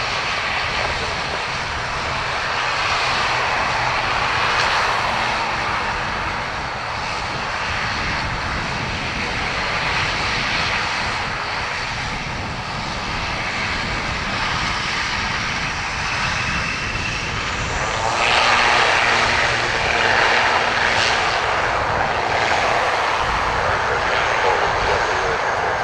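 A fixed-wing airliner's engines roar in a sustained, loud rush during takeoff on runway 10 right at Dublin Airport, swelling stronger toward the end as the aircraft powers away.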